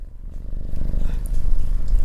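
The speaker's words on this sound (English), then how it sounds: "Just listen to that. That sounds like a helicopter." A cat purrs loudly right at the microphone, a steady, rumbling low drone that swells slightly louder over a couple of seconds with no talking.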